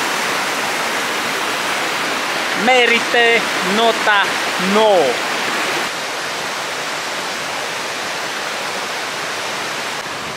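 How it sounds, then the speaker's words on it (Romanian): Constant loud rush of a flowing river in the Vârghiș Gorge, Perșani Mountains, Romania, fills the clip, with a person briefly speaking over it near the start. "Merg pe lângă un râu."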